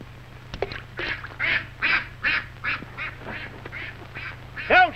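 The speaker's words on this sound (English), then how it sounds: "Look at those ducks." Ducks quack repeatedly on a golf course in an old W.C. Fields comedy short, a run of clear, evenly spaced calls close by over a low steady hum, with a louder burst at the end.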